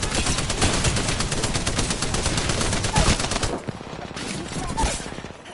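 Rapid, loud automatic gunfire in Apex Legends Season 20 ranked play, dense bursts for several seconds before tapering into scattered shots, with brief voice bits mixed in.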